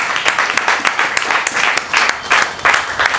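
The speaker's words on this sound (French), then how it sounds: "Est-ce qu'on peut acclamer?" Audience at a press conference on nutrition applauds steadily throughout, a dense, loud wash of many hands clapping close by, with no voices over it.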